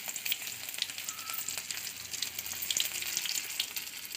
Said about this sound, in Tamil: இதில் கொஞ்சம் சோம்பு போட்டுடலாம். கொஞ்சம் பூண்டு நசுக்கினது போட்டிருக்கேன்.